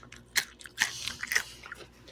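Crisp, close bites into thin-chopped fried food, three loud crunches spaced about half a second apart followed by smaller crackling chews, with no talking.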